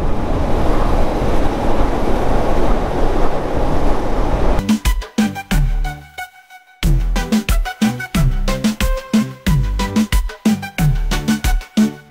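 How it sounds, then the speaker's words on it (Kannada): Strong wind roars and buffets a microphone for about five seconds during a motorcycle ride on a mountain highway in Ladakh between Jammu and Srinagar, then gives way to choppy, gusty bursts with a brief drop-out. "ಗಾಳಿ ಏನು ಸಕದಾಗ ಹೊಡಿತಾ ಇದೆ"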